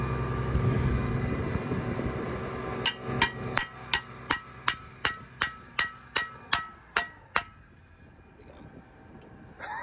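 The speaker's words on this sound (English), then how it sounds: "Just a little tap with a rock and it'll go." A series of about a dozen sharp metallic taps in a steady rhythm, fairly close, over a low background rumble that fades afterward.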